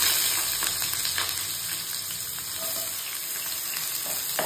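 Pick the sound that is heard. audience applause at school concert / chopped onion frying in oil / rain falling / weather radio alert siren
chopped onion frying in oil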